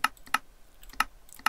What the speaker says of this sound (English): clicking a bunch of times, and then just clicking a bunch of times here